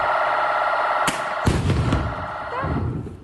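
Loud gunfire bursts during a police operation on a quiet residential street where a bomb squad was present, with two or three sharp cracks over a steady background hum.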